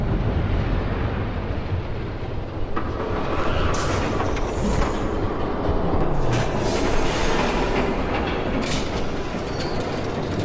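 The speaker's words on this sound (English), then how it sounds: "There's a train coming." A train rolls past nearby with a continuous heavy rumble, rattling clatter and occasional metallic screeches, loud and steady throughout with wind buffeting the microphone.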